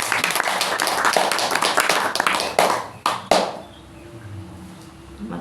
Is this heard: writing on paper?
no